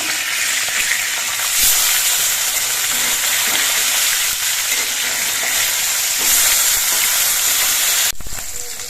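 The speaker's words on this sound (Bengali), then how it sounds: "কড়াইয়ে তেলের পরিমাণটা অল্পই আছে এই জন্য আমি দুটো করে মাছ একবারে দিয়ে ভাজছি" Sarputi fish frying two at a time in a little oil in a wok, a loud, dense crackling sizzle that runs steadily up close, with a couple of brief knocks and no speech.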